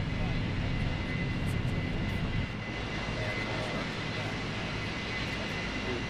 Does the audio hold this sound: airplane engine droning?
yes